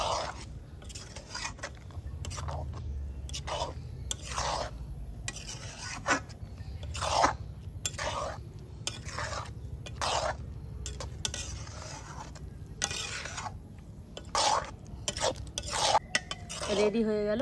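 A spoon scrapes and rasps around a pot of vermicelli kheer with fried cashews and raisins, repeated rhythmic stirring strokes up close, with occasional metal clinks against the pot.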